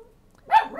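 A dog gives a single short, sharp bark at close range after a near-silent moment, followed by a brief whimpering tail.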